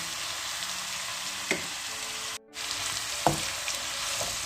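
Spinach sautéing in a pan, a steady close hiss of frying with a couple of brief stirring clacks and a momentary dropout midway, no one speaking.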